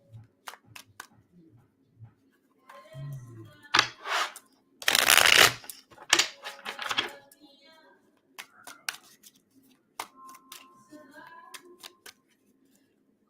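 Tarot cards are handled and shuffled in short, crisp bursts, including a loud riffle and bridge near the middle, separated by quiet pauses and softer taps, with a voice speaking briefly.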